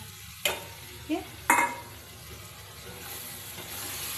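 Meat fries in hot oil with spices in a pan, a steady sizzle broken by three sharp scrapes of stirring in the first two seconds, close and without speech.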